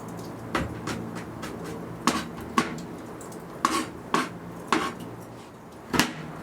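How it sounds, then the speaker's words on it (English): A knife chops through a garlic clove and red onion on a board, with about eight sharp, irregular knocks spread across the stretch, moderately close and free of talk. "we're going to take one garlic clove and give that a rough chop as well"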